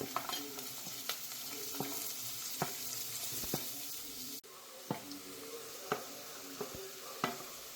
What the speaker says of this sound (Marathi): आता मी कांदा टाकते यात तो मस्त लालसर होऊ द्यायचा